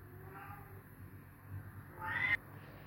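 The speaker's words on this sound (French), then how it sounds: "J'entends mon petit bébé, enfin mon petit chaton." A kitten indoors lets out a faint distant meow early on, then a slightly louder, rising meow near the end, against a quiet room background.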